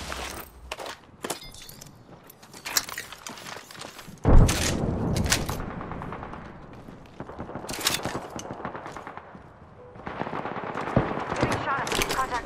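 Gunfire in the battle royale game Apex Legends, with repeated rapid bursts and one heavy thudding blast, rising and falling in loudness over about twelve seconds while game voices speak.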